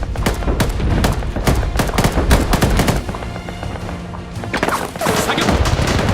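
Loud, dense gunfire rattles in rapid overlapping bursts, sustained almost without a break apart from a brief lull before resuming just as heavily.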